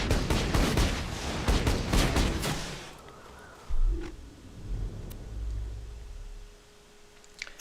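Slippery rifle gunfire from Borderlands 2 rattles off in a dense, rapid burst that opens the moment, then stops, leaving a few quieter game thumps and a low rumble.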